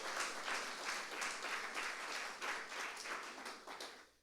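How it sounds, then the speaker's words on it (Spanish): A church congregation claps along together during a Sunday service, with steady rhythmic applause that carries on throughout without a break. "A su nombre, dale palmas al Señor"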